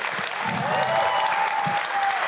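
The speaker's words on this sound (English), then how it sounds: "can we get a round of applause for Steven?" Applause from an audience at a startup founders' event, steady and fairly loud across the whole stretch, with a faint tone running underneath.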